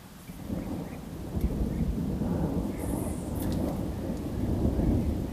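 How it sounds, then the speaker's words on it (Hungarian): Low rolling thunder rumbles through a steady thunderstorm downpour over a river while catfishing, rain hissing continuously with a few sharper drops and crackles, lightning flashing, no voices. "Nagyon neki kezdett villámlani."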